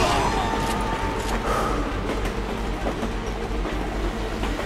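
A train approaching in the Call of Duty Black Ops video game, a steady loud rumble with rattling wheel clatter that swells and holds across the whole stretch, with no talk over it.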